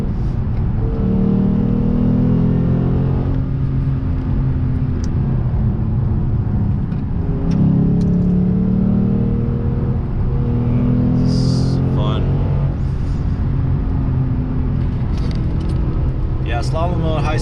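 A Lexus RC F with its V8 engine cruising at speed, heard from inside the cabin as a steady low drone with rising and falling revs, while a person talks over it throughout.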